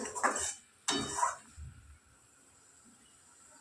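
Raw prawns are stirred in a pan during sautéing, with two quick metallic scraping clinks of a utensil close by, followed by a quiet lull.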